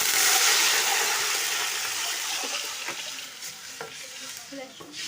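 Water poured into hot ghee with browned fried onions in a pan, a loud, bright hiss and sizzle that slowly settles into softer bubbling with a few light clinks of a utensil.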